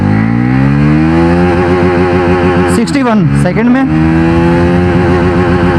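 A Bajaj Pulsar NS400z motorcycle pulls hard through its gears, the loud engine note climbing, dropping briefly at a shift, then climbing again, with someone talking over it.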